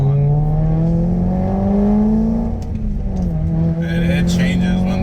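A six-speed BMW E90 M3, not in M mode, revs hard up close: the engine note climbs, dips briefly and rises again, loud and continuous, with a voice faintly underneath near the end.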